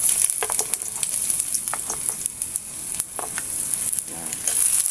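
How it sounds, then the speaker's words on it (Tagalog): Ginger sizzles in hot oil, a bright, continuous crackle with scattered pops and stirring scrapes, loud and close with no talking. "kapag mainit ang ating mantika, magigisa na tayo ng luya"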